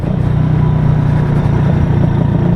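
Loud, close motorcycle engine idling in winter with a steady low rumble and slight throbbing pulse, no voices.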